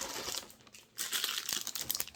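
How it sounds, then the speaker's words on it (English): Close, continuous crinkling of a plastic zipper bag holding a reborn doll being handled, with a brief quiet gap before the rustling resumes. "It's packaged in this plastic."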